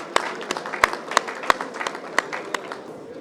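Applause from an audience at a formal gathering welcoming a former Prime Minister of Pakistan: steady scattered clapping with sharp individual claps standing out, sustained and moderately close throughout.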